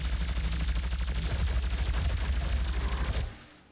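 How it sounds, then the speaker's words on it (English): Plasma rifle firing in the video game DOOM: a rapid, even stream of repeated loud shots lasting about three seconds, then cutting off abruptly. "Let's go for a plasma rifle,"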